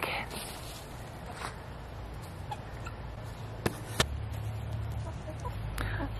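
Backyard chickens cluck and murmur at low level in a garden, with a few sharp clicks and knocks nearby and a faint background hum.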